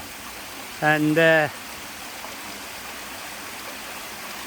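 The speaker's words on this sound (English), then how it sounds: "So yeah, waterfall in Telford Town Park." Steady broadband rush of a small waterfall in Telford Town Park, a constant outdoor wash of falling water with a brief spoken word over it near the start.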